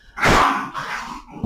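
A dog indoors lets out two quick, loud, close barks, the first sharper and stronger, the second softer and trailing off.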